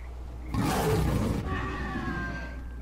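A loud, guttural monster roar in STALKER: Call of Pripyat with the Misery 2.0 mod erupts as the creature dies, trailing off into a dying groan, followed by a fading high-pitched wail.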